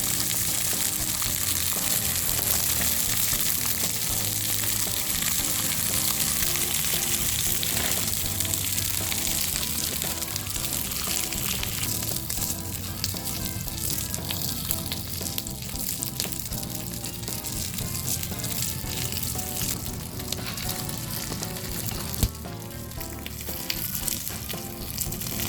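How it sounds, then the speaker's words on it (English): Pork fat sizzles and crackles in a cast iron pan over a wood fire outdoors, a dense, continuous frying hiss with small pops throughout and no talking. "To season the cast iron pan, rub it with a piece of pork fat, repeating the process several times to get that oil into the pan."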